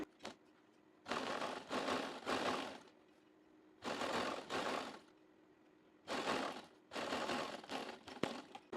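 A tailor's sewing machine stitches a lace seam on trousers in three bursts of fast whirring run, each lasting about a second or two and separated by short quiet pauses, close and fairly soft.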